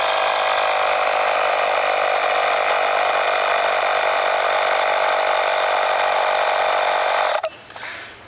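An electronic cooling system pressure tester runs while pumping pressure into a radiator through an adapter, giving a steady loud mechanical whir with a ratcheting buzz that holds for about seven seconds before cutting off abruptly.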